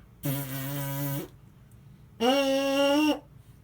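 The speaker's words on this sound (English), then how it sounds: "make a buzzing sound by blowing through your lips" Two separate buzzy, reedy tones from lips vibrating without a trombone mouthpiece, each about a second long with a short silence between, the second slightly higher.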